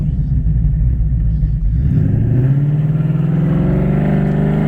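A 2015 Ford Mustang with a 6R80 automatic transmission accelerating through its gears, a loud close engine drone that drops on a shift and then climbs steadily in pitch.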